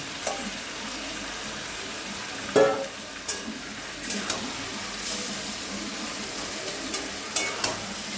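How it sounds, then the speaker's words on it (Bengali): Marinated chicken coated in ginger, garlic and onion paste with Kashmiri chilli sizzles softly in a pan, a steady low fry broken by a few sharp stirring clanks and scrapes. "এবার আগে থেকে ম্যারিনেট করে রাখা মাংসটা তার মধ্যে দিয়েছি আমি আদা বাটা রসুন বাটা পেঁয়াজ বাটা আর কাশ্মীরি লঙ্কা দিয়ে"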